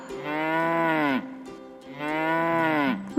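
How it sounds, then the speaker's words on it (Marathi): A domestic cow moos twice, each a long, loud, drawn-out low call that falls in pitch at the end, separated by a short pause, close and clear with no other sound. "गाय"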